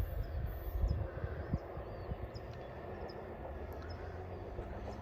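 An Amtrak Capitol Corridor westbound passenger train, number 744 bound for San Jose Diridon, rolls past at a distance as a steady, fairly faint rumble with low wheel noise throughout.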